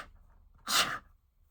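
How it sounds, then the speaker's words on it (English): One short, sharp human sneeze, close and fairly loud, preceded by a faint breathy intake and followed by quiet. "now I'm going to sneeze"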